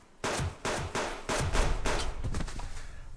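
Rifle gunshots fired at a wolf in the video game Subsistence, a rapid series of about six sharp, loud blasts with short reverberant tails, followed by lingering rumble.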